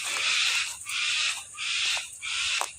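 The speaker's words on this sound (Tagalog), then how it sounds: "nagulat kami sa malakas na ingay ng mga malalaking ibon" Large birds give loud, repeated harsh calls, about four drawn-out cries in steady succession, fairly close, with no talking.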